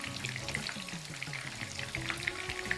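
Chicken pieces frying in hot oil for chicken Manchurian, a dense, steady sizzle with crackling pops throughout, close and fairly quiet, no talking.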